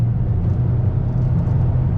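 A 2020 Toyota Corolla SE with a six-speed manual held at full throttle gives a loud, steady low engine drone heard from inside the cabin, continuous and unbroken with no talk.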